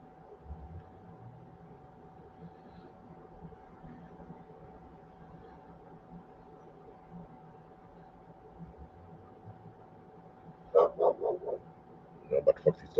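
Dogs bark near the end after long quiet with a steady faint hum, a few sharp close barks in two quick bursts.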